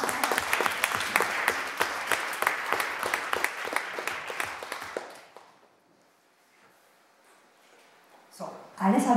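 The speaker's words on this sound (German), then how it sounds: "deswegen auch noch einmal ein Applaus und danke für meine Kollegin Frieda" An audience at a talk on humour in sign language claps in a lively, rapid patter for about five seconds, then it dies away to near silence before a voice starts speaking at the end.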